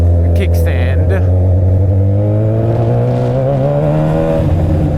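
A Yamaha R1 motorcycle engine revs in a strong, continuous tone that rises gradually in pitch, with a brief burst of voice or wind noise at the start and a slight drop near the end.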